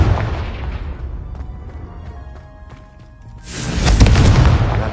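A Confringo fire spell blast from Hogwarts Legacy, cast at braziers, bursts in as a loud, full booming roar that swells after a quieter rumbling stretch and holds strong to the end.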